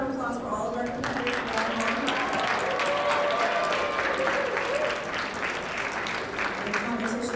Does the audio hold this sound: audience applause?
yes